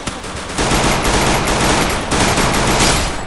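Dense, continuous gunfire from a Free Fire clash squad ranked match roars loud and unbroken for several seconds, with rapid automatic bursts blending into a constant wall of shots.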